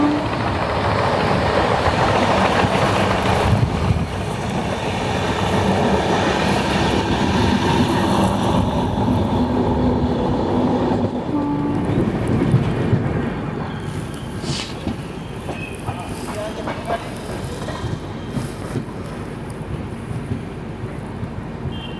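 The Garib Rath Express from Kolkata to Guwahati rolls through dense fog, a steady rumbling run of wheels on rails with rhythmic clickety-clack and occasional squeals, louder early and gradually settling.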